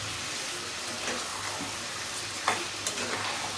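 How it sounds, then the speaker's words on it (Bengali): Panch phoron spices sizzle and crackle in hot oil for a chalta (elephant apple) pickle, a steady close hiss with a few soft stirring scrapes. "পরের দিন আমি 5 ফোড়ন দিছি"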